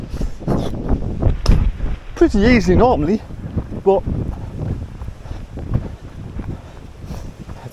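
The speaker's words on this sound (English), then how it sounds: "it's windy today." Gusty wind buffets the microphone on a hilly outdoor countryside walk, rumbling steadily beneath someone talking up close.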